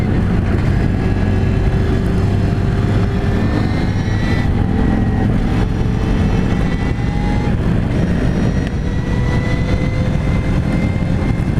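A 2016 Victory Empulse TT electric motorcycle rides past in a loud, steady rush of wind and road noise, with a faint rising motor whine through the turns and no talk.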